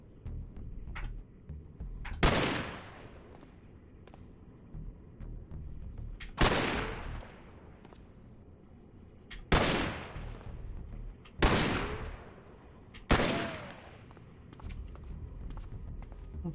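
Gunfire in the Cataclysm DDA video game: five sharp, loud single shots cracking out a few seconds apart, each with a short decaying tail, separated by quiet stretches.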